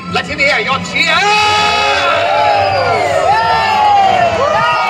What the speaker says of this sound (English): Let him hear your cheer.